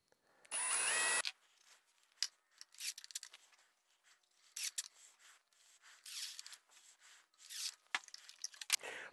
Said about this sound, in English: So I'll countersink those first of all.